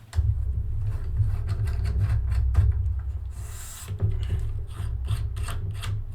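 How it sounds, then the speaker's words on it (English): A clamp being screwed onto a desk, giving a close, continuous low grinding and rubbing with small clicks and a brief higher scrape near the middle, and no voices. "Just screw that onto the desk, like so."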